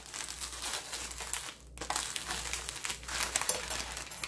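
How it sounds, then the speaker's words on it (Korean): A spoon presses down on a folded plastic bag of packaged Korean seaweed (laver), giving soft, close crinkling and rustling that continues throughout, with a brief pause in the middle. "그리고 펴서 또 반으로 접어서 숟가락으로 꾹 눌러주세요."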